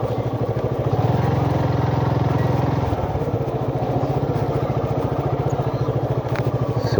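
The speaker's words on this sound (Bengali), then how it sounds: "আবার বাইক চালাতে শুরু করলাম" A motorcycle ridden through narrow village lanes, its engine putting out a steady close-up pulsing drone that swells briefly as the rider pulls away, with no talking over it.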